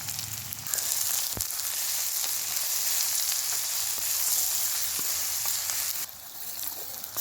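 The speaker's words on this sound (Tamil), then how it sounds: "வெங்காயம் வதங்கிறதுக்கு கொஞ்சமாக உப்பு சேர்த்துடலாம்" Two medium onions with a little salt sauté in a pan, giving a steady, close hiss of sizzling oil with a few faint clicks; the sizzle dips slightly near the end.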